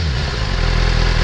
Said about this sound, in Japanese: 純正でも外車ですね、排気音はすごいいい音しますね。